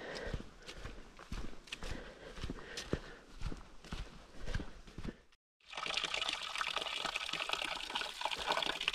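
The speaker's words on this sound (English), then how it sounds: "It's a quaint little water channel." Steady trickling and splashing water runs through a small channel throughout, with rhythmic knocking sounds in the first half, a brief drop to silence, then brighter rushing flow.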